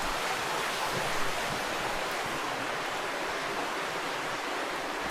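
A creek flows through Indian Rock House Cave on an Arkansas nature trail, a steady broadband rush of water heard close and unbroken throughout.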